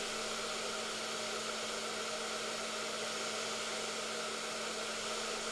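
A hair dryer blows hot air while hair is being styled, producing a steady, even whooshing hum that stays constant and fairly close throughout.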